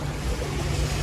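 Strong wind buffets the sea during overnight fishing, making a loud, dense, steady roar of wind and surf that fills the whole clip with no voices.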